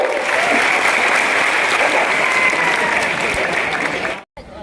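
A large crowd at a busy outdoor gathering in Vrindavan claps in a loud, dense, sustained burst of applause that cuts off abruptly near the end.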